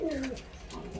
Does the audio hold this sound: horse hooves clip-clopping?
no